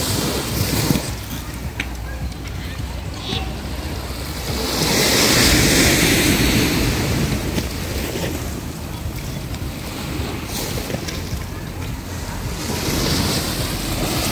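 Ocean waves at Dahican beach in Mati, Davao Oriental, roll in as a steady wash of surf mixed with wind noise, swelling louder midway through and again near the end, with no voices.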